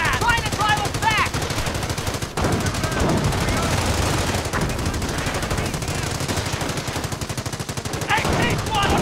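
Battle gunfire in the video game Company of Heroes, dense rapid machine-gun bursts and rifle shots rattling continuously, with game voices calling out briefly over the shooting.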